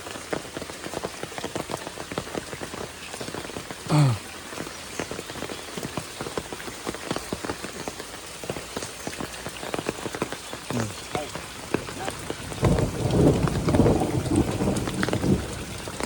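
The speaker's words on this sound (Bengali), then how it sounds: "বৃষ্টি পড়াতে একটু ক্লিয়ার হচ্ছে।" Heavy rain pours steadily on a poor road in Bangladesh, a dense, continuous loud hiss with splattering drops throughout, swelling louder near the end.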